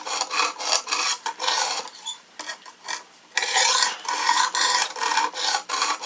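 A knife is drawn across the sharpening stone of a Work Sharp Precision Adjust sharpener in rhythmic gritty rasping strokes, close and loud, with a brief pause in the middle before quicker back-and-forth strokes resume.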